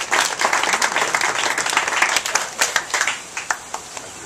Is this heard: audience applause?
yes